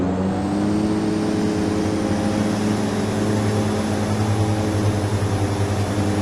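Twin turboprop engines of a de Havilland Twin Otter in FSX spooling up to takeoff power, a loud, steady droning whine with a rising tonal hum and no pauses.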